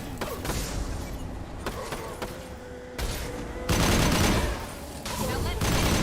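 Rapid bursts of gunfire from a Mass Effect 2 firefight, loud and dense, with sharp volleys and booming shots overlapping across the span and growing heavier toward the end.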